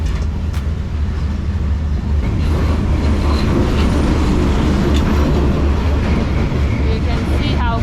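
A train rolls through Hanoi's narrow train street with a loud, continuous heavy rumble and clatter, close by, while people talk over it.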